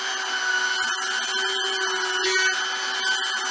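A plastic welder melting plastic on a 1970 Torino grill, giving a steady rubbing, scraping hiss with a constant tonal hum and occasional short breaks, close and moderately loud.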